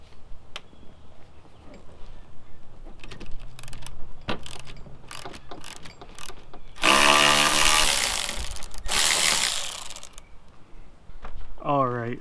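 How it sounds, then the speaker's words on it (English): A power tool removes the bolts holding the driver-side seat bottom on a Ford F250/350 truck, with short ratcheting bursts, then a long loud whirring run and a closing rev. "these 2 bolts need to come off"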